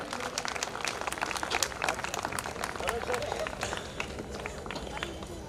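Applause from an audience at an ex-servicemen welfare association program in 2023, a dense steady patter of many hands clapping, moderately loud and sustained throughout, with a voice briefly audible under it.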